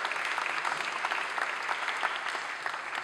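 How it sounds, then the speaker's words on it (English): Steady, fairly faint applause at a Durham Town Hall saxophone concert, an even patter of many hands clapping for a saxophone player that holds without a break. "Round of applause for Dave."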